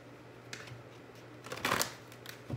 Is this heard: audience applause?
no